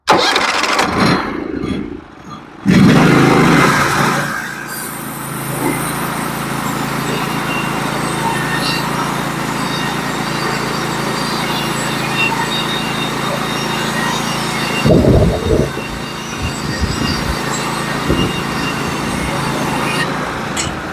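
A sawmill engine cranks and starts with a sputter, then settles into a steady running drone while milling a log into faux beams; a brief clattering burst comes later, with occasional voices in the background.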